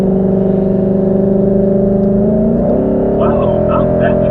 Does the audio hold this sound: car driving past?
yes